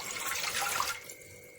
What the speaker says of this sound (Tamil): குக்கரில் தண்ணி ஊற்றிக்கலாம்.